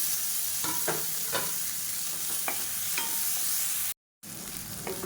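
Onions and tomatoes sauté in a pan, a steady hiss of frying with several sharp spatula scrapes and taps, close up, a short gap of silence near the end.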